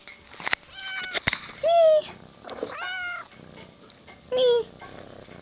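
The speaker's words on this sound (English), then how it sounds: "my kitty cat is here with me" A pet cat meows twice, short clear calls near the microphone, between a person's chatter, kisses and soft household sounds.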